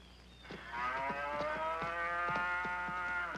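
A cow on a coffee farm lets out one long, loud, nearby moo that starts low, swells and holds steady, with no other sounds around it.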